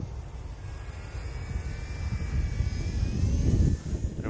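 An Eachine Mini BF109 400mm RC warbird flies overhead with a buzzing electric motor that swells and fades as the plane passes at moderate distance.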